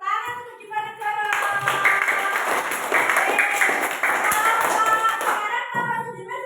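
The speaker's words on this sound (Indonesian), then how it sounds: "Tepuk tangan untuk Diponegoro." Children in a classroom clap their hands together, a dense burst of applause lasting several seconds, close and loud, with a teacher's voice talking before and after the clapping.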